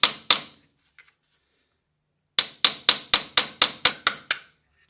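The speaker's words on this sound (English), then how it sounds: "I'm going to use a hammer and a punch to accomplish this." Sharp metallic hammer strikes on a punch driving out the front sight of a Smith & Wesson M&P Shield pistol: two blows, a pause, then about nine evenly spaced taps, close and crisp.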